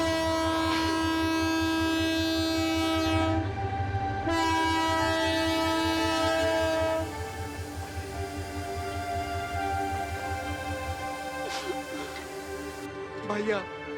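A train pulls out of a station platform, a sustained horn tone stretching over the rumble of the carriages, with voices talking nearby throughout.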